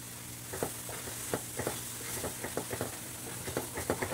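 Homemade tomato sauce bubbles and sizzles in a pan while a spoon stirs it, giving a low frying hiss broken by irregular soft clicks and scrapes.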